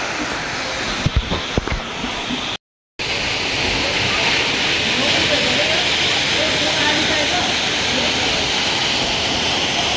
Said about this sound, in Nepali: नुवाकोटको रानी पावादेखि तलतिर घुमिरहेको फुङफुङ झरनाको दृश्य